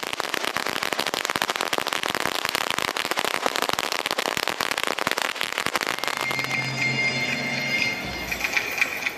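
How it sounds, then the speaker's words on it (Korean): Firecrackers crackle in a dense, rapid string of sharp pops at the start of a village festival in Guizhou, China, loud and continuous for about six seconds before fading into lingering ambient noise. "소박한 폭죽으로 축제의 시작을 알립니다."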